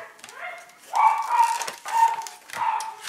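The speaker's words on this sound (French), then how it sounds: "Si vous entendez aboyer, c'est mon chien." A pet dog barks a few times indoors in a quiet room, with three or four short, moderately loud yelps spaced about a second apart.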